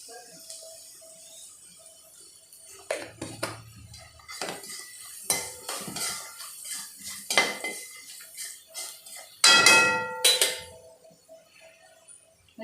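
Utensils clink and scrape against a pan while turmeric is stirred into vegetables being sautéed for a Shravan sattvic thali, a series of close, irregular metallic knocks and scrapes with no voices.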